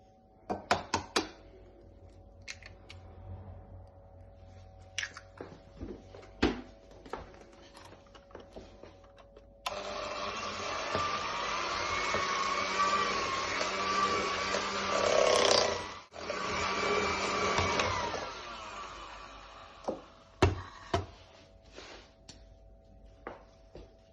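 An electric mixer beats an egg into creamed butter and sugar for banana bread, a steady whir running about eight seconds in the middle, bracketed by scattered clatter and knocks of kitchen handling.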